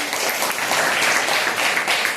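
A classroom of Marathi-medium seventh-grade students at a village school claps for a classmate who read an answer aloud, producing a brief, dense burst of many hands applauding together at close range.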